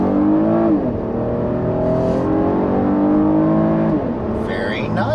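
A 2017 Buick LaCrosse accelerates on the road, its engine note rising smoothly through the gears. The sound is steady, moderately loud and heard from inside the car.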